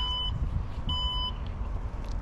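Two short electronic beeps sound from a 2023 Maserati Grecale as its power trunk closes by key fob, spaced about a second apart over a low rumbling background.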